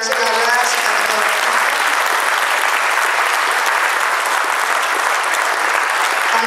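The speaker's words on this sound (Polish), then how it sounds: "Wielkie brawa w takim razie dla Radzika" An audience at an awards gala in Olsztyn gives steady, dense applause for Radzik, loud and close throughout, with no letup and no individual voices standing out.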